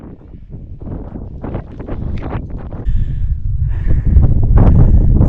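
Gusting wind buffets a microphone outdoors on the Pennine Way, producing rough low rumbling that swells and grows stronger toward the end.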